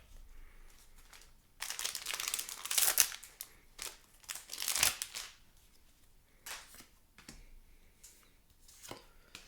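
A Double Masters 2022 booster pack wrapper being torn open and crinkled, with close, loud bursts of crackling foil and rustling followed by softer scattered crinkles and handling.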